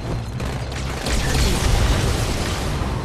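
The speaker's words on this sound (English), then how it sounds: "Good explosion." A heavy, rumbling boom bursts out and rolls on, a loud low video game explosion in Halo: The Master Chief Collection on Xbox One, with crackling debris filling the space, no voices over it.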